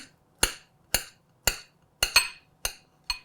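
Knife chopping food into small pieces on a cutting board while making a low-calorie breakfast with avocado, seven sharp evenly spaced chops with one quick double stroke, close and clear against a quiet background.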